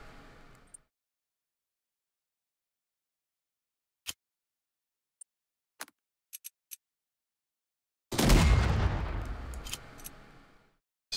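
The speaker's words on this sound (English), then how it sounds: "Let's try another suppressive fire." Suppressive gunfire in Unity of Command 2: a few isolated sharp shots and clicks spaced over silence, then a loud rumbling burst of firing and explosions that decays over several seconds.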